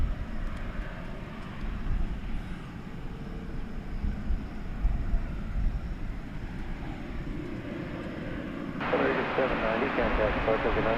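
A jet airliner on the Dublin flight at Dallas/Fort Worth International Airport, running late, gives a steady broadband engine roar that swells louder near the end, with voices murmuring over it.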